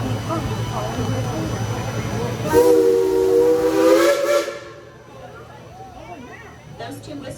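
Baldwin steam locomotive No. 70 on the Dollywood Express sounds two short, loud steam whistle blasts over a steady hiss and rumble, then quieter background noise follows.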